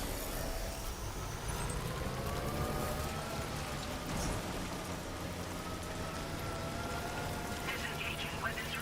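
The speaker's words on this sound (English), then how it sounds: "Be mindful of exposure to timefall." Timefall rain in the video game Death Stranding 2 falls as a steady, even hiss of rainfall that holds at a constant level from start to finish.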